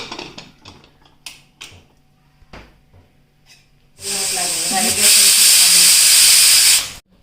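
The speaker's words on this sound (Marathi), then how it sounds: "आता पाणी थोडं आटत आलं की आपण झाकण लावून याला तीन शिट्या काढून घेऊया" A pressure cooker on the stove lets off a loud, sustained hiss of escaping steam for about three seconds after a stretch of quieter kitchen clatter.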